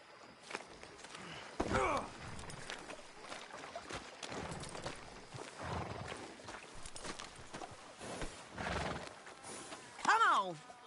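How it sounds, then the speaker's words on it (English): Horse in a video game, with hooves clip-clopping and neighs and whinnies scattered across the stretch, a louder whinny near the end, and people talking at moderate level over the animal sounds. "Get him on a horse."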